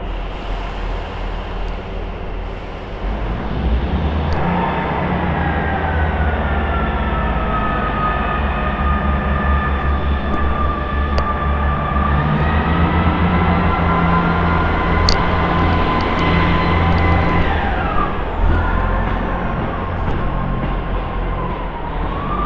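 Four-carriage ScotRail Class 158 diesel multiple unit bound for Edinburgh, heard from on board: a loud, steady low engine drone and rumble with rising and falling transmission whine as it pulls away and runs on, with no talking.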